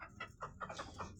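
Chickens cluck softly in a coop during winter, with several short, close, rapid clucks one after another.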